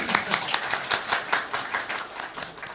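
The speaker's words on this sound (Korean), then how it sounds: "자, 우리 이분들 위해서 박수 한번 쳐드리겠습니다." Church congregation clapping during a Sunday worship service, rhythmic and fairly close, with distinct clap bursts at a steady beat.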